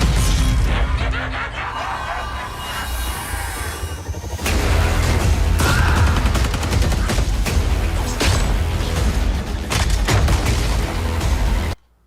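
Shotgun blasts from the Argus in Black Ops 3 Zombies ring out in loud, repeated booms over dense game effects and music, the firing continuing for several seconds before cutting off abruptly.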